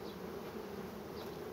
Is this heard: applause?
no